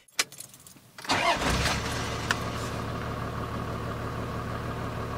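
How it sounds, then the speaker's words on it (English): Diesel engine of a Toyota Land Cruiser overland build cranks briefly, then catches and settles into a steady, close idle. "let's fire up one of the last diesel engines of its kind again."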